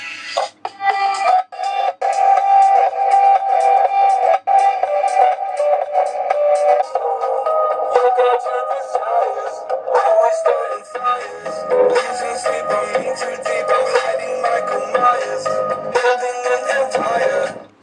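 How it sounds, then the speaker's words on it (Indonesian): A portable vibration speaker pressed against a stainless steel glass plays music with a thin, bright, tinny, radio-like tone. The sound is loud and continuous, with brief dropouts near the start. "Selanjutnya, saya coba tempelkan pada gelas stainless steel ini."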